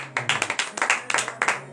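A church congregation at morning prayer claps, with sharp rhythmic hand claps in quick bursts of roughly even beats, fairly close, and faint voices mixed in.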